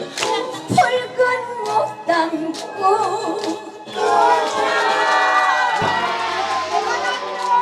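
Studio audience at a Korean entertainment show cheering and clapping, a lively crowd roar mixed with shouts and music that swells after a few seconds and stays loud to the end.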